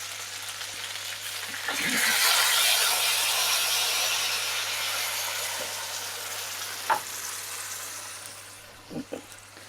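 Wine dribbled into the side of a hot pan of Chicago-style Chicken Vesuvio, crispy garlic and lemon chicken, bursts into loud, bright sizzling that swells, then settles into steady frying with a few scattered clicks and pops.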